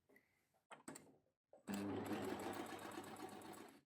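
Overlocker serger starts with a few short stitch bursts, pauses, then runs in a steady, loud, close mechanical whir for the rest of the clip, with no talking.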